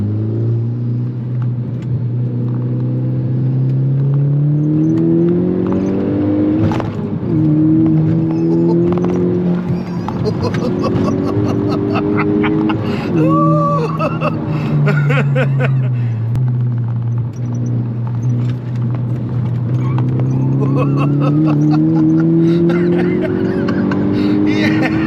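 Engine of a Stage 1 tuned Mk6 Volkswagen Golf GTI, heard from inside on a drive, a loud droning note rising and falling through repeated pulls and gear shifts while people talk over it.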